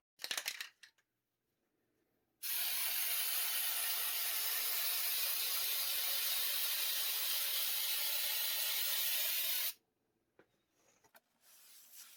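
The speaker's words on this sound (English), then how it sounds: "So I'm going to mask this up and spray it up." A spray can of sealer hisses in one long, steady burst lasting several seconds, close and loud, bracketed by a few small clicks and handling noises.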